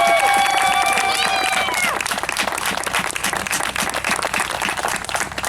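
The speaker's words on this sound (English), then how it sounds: "So let's give Dane a round of applause." Theater audience at a community civic theater melodrama claps and cheers, dense applause under a brief high whistle-like tone at the start, steady and fairly loud throughout.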